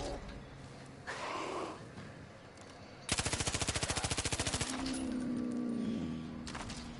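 Rapid automatic machine-gun fire in Far Cry 5, a fast, even burst of about twenty shots lasting roughly a second and a half, loud and close amid quieter game ambience.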